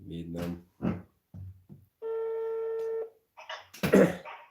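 A telephone number is dialed, and a steady electronic tone sounds for about a second, clear and alone, between short bursts of nearby talk.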